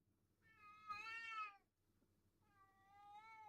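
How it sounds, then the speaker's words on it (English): A cat yowls nearby in two drawn-out, wavering meows separated by a short pause, the second rising in loudness at the end, over quiet room noise. "it's everyone's favorite yowly little cat who's gotten way more yowly the last few days"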